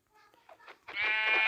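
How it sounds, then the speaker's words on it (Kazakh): A Minecraft sheep gives a few soft, wavering bleats, then one long, loud bleat at the end, heard close and alone with no talk over it. "Мұнда екі қой бар екен."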